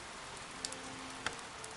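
Rain falls in the medieval strategy game The Guild 2: Renaissance, a steady soft hiss with a couple of brief sharper drips or ticks over a faint low hum.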